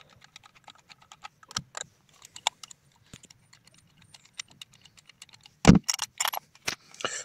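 Torx screwdriver unscrewing the ignition coil screws on a 1.4 petrol 90 hp Opel Corsa, sparse small metallic clicks and ticks close up, with a few sharper clanks and a louder clatter near the end.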